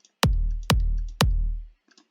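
Three punchy kick drum hits spaced about half a second apart, each with a sharp click attack and a deep booming tail, followed by brief faint noise.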